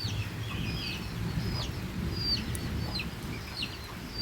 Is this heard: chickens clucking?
yes